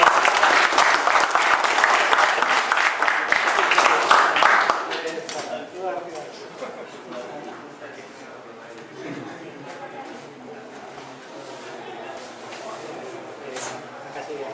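An audience applauds at the close of a lecture on Indonesian courts, loud dense clapping for about five seconds that fades out, followed by quieter room noise and a speaker talking.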